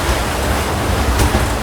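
Waves and white water crash over the bow of a sailboat under way at sea, a loud, continuous rushing wash mixed with wind noise.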